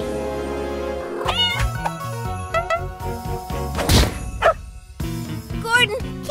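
A cat meows several times, its rising and falling cries sounding over loud background music with some voices and a thump mixed in.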